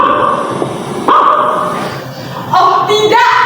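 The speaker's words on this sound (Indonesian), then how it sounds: "Terdengar gonggongan anjing dari luar" A dog barks outside during a theatre play, a few loud bursts with sudden onsets rising above a steady murmur of background noise and voices.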